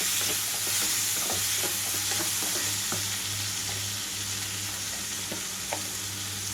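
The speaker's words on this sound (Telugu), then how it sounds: "నేను క్లీన్ చేసి పెట్టుకున్న రొయ్యలు కూడా ఇందులో వేసేస్తున్నాను" Cleaned prawns sizzle and fry in a pan of gravy for a yellow cucumber prawn curry, a steady close hiss broken by repeated spoon scrapes and stirring knocks, with no voices.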